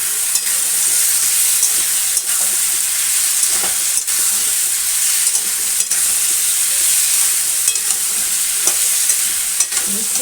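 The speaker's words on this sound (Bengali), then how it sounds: "সুন্দর করে এখন নাড়াচাড়া করে নেবো" A vegetable curry with tomato is stirred and fried in a pan. A loud, steady sizzle runs throughout, punctuated by regular scraping strokes of the spoon, with no voices.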